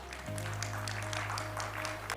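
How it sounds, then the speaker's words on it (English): Conference audience applauding a woman entrepreneur honored by Hindustan Times, a dense, steady patter of many hands filling the room at moderate volume under a low hum. "A huge round of applause for Dr."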